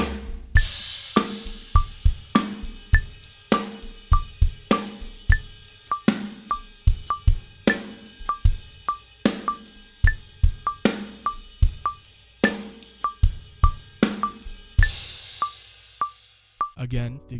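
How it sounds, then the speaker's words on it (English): Close, solo drum kit groove moving from eighth notes into quarter-note triplets: regular kick and snare strikes with a bright cymbal bell tapping on top, ending in a washy crash. "Next example we're going to take a look at is 8th notes into quarter note triplets, and it sounds like this"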